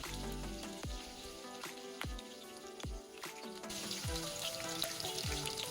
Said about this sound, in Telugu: అలా చిటపటలాడుతున్నప్పుడు పచ్చిమిర్చి చీలికలను కూడా దానిలో వేసుకోవాలి